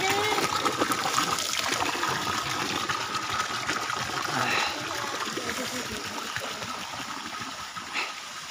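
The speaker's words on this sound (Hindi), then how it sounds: "ये सदाबहार पानी रहता है यहाँ पर।" Cold spring water trickles steadily at a village naula, a stone spring well, making a continuous close splashing and gurgling with no pauses.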